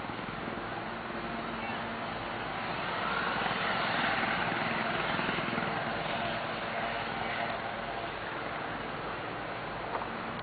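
Helicopters at a nearby helicopter airfield make a steady, washy drone that swells slightly midway and continues throughout.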